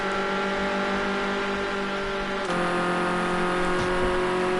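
Ford Escort RS 1600 racing engine in a sim racing game at Hockenheim, a steady, loud high-revving drone that holds pitch then shifts slightly as the car runs down the straight, continuous and alone.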